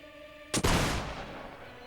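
One sharp, loud gunshot rings out in Mount & Blade: Warband's 1776 American Revolution setting, a sudden crack followed by a booming tail that fades over about a second.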